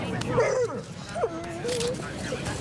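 A dog whimpers and yips in a few high, whining bursts, with a short bark, close by against light background noise.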